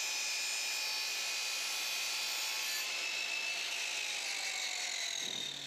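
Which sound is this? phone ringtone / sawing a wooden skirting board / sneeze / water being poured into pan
sawing a wooden skirting board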